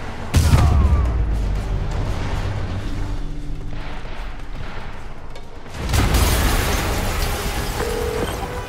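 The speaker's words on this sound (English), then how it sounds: "Yuri, an explosion just..." Loud explosion in the Spider-Man Remastered video game, a heavy boom at the start followed by sustained rumbling debris and a second surge of blast noise near the end, with no talk over it.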